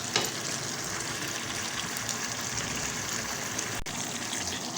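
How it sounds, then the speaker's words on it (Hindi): Chicken karahi fries over high heat in a wok, giving a loud, steady hiss and sizzle that continues without a break, with a brief sharp clatter near the end. "इसी तरह से हम तेज़ आंच पे इसको फ्राई करते रहेंगे"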